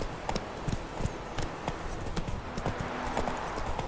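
Horse hooves clip-clopping in The Witcher 3 video game, a quick, steady rhythmic trot of close, crisp hoof strikes with faint background ambience.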